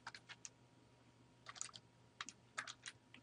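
Keys clack on a computer keyboard as someone types and taps the tab key, a quiet, close run of irregular short clicks in small clusters with brief pauses between them.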